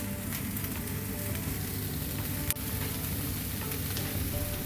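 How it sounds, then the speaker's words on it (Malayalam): Capsicum and soya masala sautéing in a pan, a steady dense sizzle holding at an even level throughout with one brief sharp clink of a utensil near the middle. "ഇനി ഇതിനകത്ത് നന്നായിട്ടൊന്ന് വഴറ്റിയെടുക്കാം."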